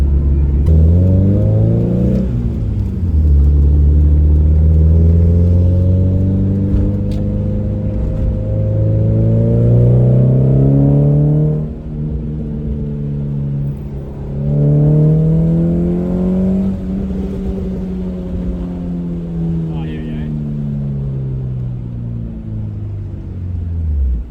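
A Hyundai Excel engine revs up hard through several rising pulls, heard with the windows down, a deep exhaust rumble climbing in pitch, dropping back, then winding up again.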